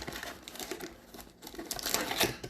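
Crinkling cellophane wrappers on packs of 2020 Chronicles football cards, a dense, close, continuous crackle of handled plastic that swells toward the end.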